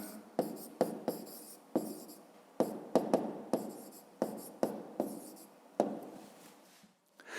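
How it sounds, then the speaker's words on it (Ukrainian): A pen writes an answer by hand on paper in a fifth-grade maths exercise, with a dozen short, close scratching strokes in an uneven rhythm and no speech. "Пишемо Леся. Українка"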